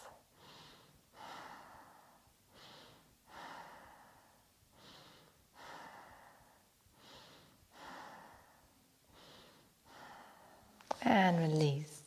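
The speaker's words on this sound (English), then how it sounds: "Deep full breaths." Slow, deep inhales and long exhales during a yoga session, about ten full breaths in a steady calm rhythm, close and soft, with a brief louder voice near the end.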